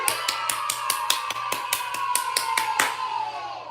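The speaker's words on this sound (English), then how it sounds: "Let's give a round of applause for Hawk." A small round of applause, a dozen or so sharp, evenly spaced claps close by over a steady tone, fading at the end without voices.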